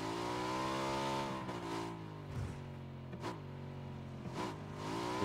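Steady car engine hum in the game PUBG on the desert map, with harmonic drone and small pitch shifts as it revs, medium loudness, no talk.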